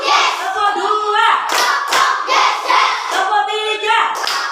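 Schoolchildren standing in a classroom clap a rhythmic pattern together, sharp hand claps mixed with loud group chanting that runs steadily through the whole stretch.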